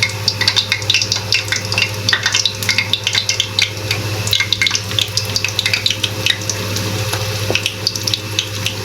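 Lumpia fry in hot oil with a dense, steady crackling sizzle full of small pops, close and continuous throughout with no talking.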